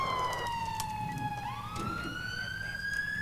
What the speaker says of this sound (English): Lights and sirens blaring